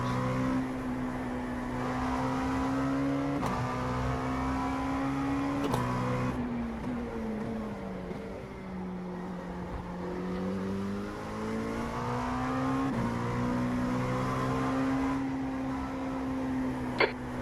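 LMP2 prototype race car in a racing sim at Road America, its engine droning loud and steady throughout with rising and falling pitch through gear changes and corners, plus a few brief clicks.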